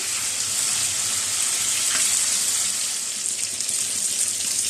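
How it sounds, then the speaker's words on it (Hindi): Mutton seekh kebabs frying in a pan over low heat, giving a steady, soft, even sizzle that continues without a break and with no talking. "अब हम ऐसा करेंगे कि हल्की आंच पर इन कबाब को फ्राई कर लेंगे।"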